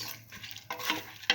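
Split mung beans are stirred in a pot for a tomato stew, a short burst of close scraping and shuffling with a couple of sharper clinks near the end.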